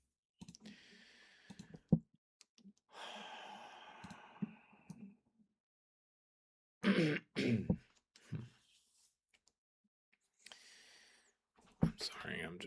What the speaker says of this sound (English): I'm just gonna cough a little.